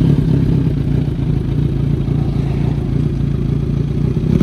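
Kawasaki Z900 motorcycle engine revving at close range, a steady loud mechanical drone with low rumbling throughout, no voices present.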